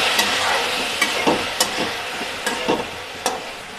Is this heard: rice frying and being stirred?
yes